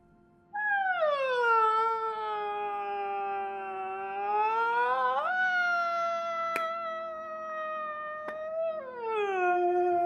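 A voice imitates a long, rising and falling funeral keening wail, a sustained cry that swoops up, holds, then slides down again.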